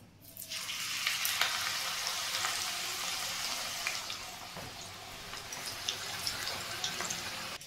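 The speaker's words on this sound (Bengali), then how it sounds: "এটা বেশিক্ষণ যেহেতু পাঁপড়, সেই জন্য খুব তাড়াতাড়ি ভাজা হয়ে যাবে।" Papad-wrapped paneer rolls frying in hot oil give a steady, bright sizzle with crackling pops, fairly even in level from start to end, with no talking.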